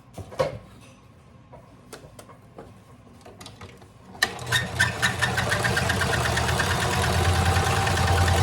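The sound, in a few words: sewing machine stitching cloth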